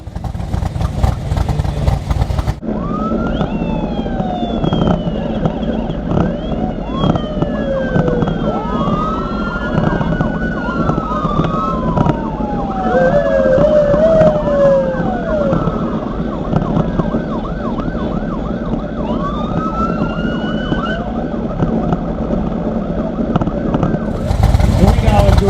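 Several vintage police car sirens wail and whoop together at a car show, overlapping sweeping tones rising and falling loudly and continuously over crowd and engine noise.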